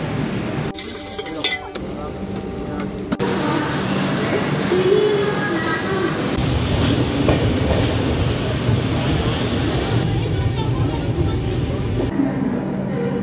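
The 22893 Sainagar Shirdi–Howrah superfast express rumbles steadily along the rails near Rourkela, Odisha, with a continuous roar and faint clattering, heard from inside a carriage, with some voices in the background.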